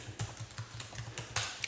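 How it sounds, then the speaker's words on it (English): Quick, steady keystrokes on a computer keyboard, a run of crisp close taps at an even rhythm with a couple of louder presses near the end. "And we're going to type"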